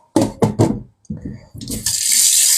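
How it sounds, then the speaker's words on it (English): Tap water gushes into a pot being rinsed in a kitchen sink, a close, steady hiss that starts partway through, after a few short bursts of nearby voices. "don't forget to rinse your pot"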